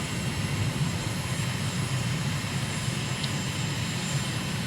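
Within Microsoft Flight Simulator over Lake Lucerne, Switzerland, a simulated aircraft engine drones steadily in a continuous low, even roar with no talk over it.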